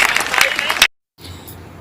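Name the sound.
applause from audience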